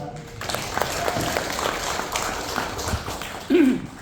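Guests in a balcony at a hearing between Papuan private university bodies and a parliamentary commission applaud, moderate clapping running steadily, with a voice speaking over it near the end.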